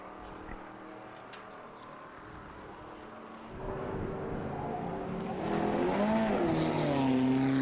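Race car engines at Silverstone, with a red TVR heading into the pits, make a low, distant drone that swells and grows louder and higher midway, ending in a steady rising engine note.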